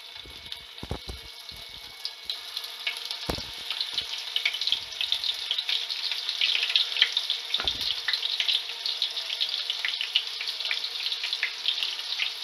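Soya chunks drop into hot oil in a pan. A few sharp knocks come first, then a crackling sizzle builds and holds steady at moderate volume, heard close up with no talking.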